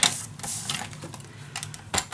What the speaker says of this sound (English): So first, I'm gonna cut my papers at 1/3.